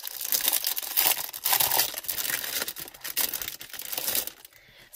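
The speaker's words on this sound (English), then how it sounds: "So this paper is also 160 GSM. And as you can hear, it is so, so thick." Thick 160 GSM dot grid paper for an A5 disc-bound planner being handled, giving a loud, continuous crinkling and rustling with sharp crackles throughout and no voices.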